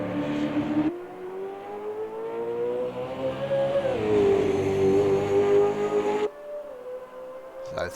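Race cars circling Bathurst in a sim racing game: a loud, steady engine howl holds and then swells as it climbs through the gears, and a second car's drone cuts in near the end.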